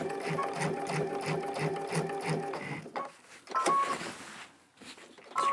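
A sewing machine stitching a quilt with a walking foot runs in a rapid, even mechanical chatter for a few seconds, then stops, leaving short starts and single stitches with quieter handling noise between.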